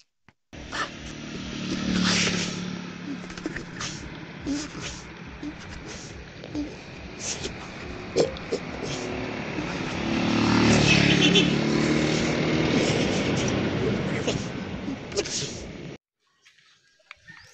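A motorcycle fitted with a newly installed digital speedometer rides off on a test drive, its engine droning steadily with rises in revs and a louder stretch near the middle, and a few faint clicks and knocks along the way.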